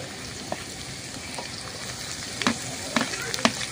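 Onions frying in a hot pan for a dhaba-style tadka, with a steady close sizzle and a few sharper crackles and spatters near the end.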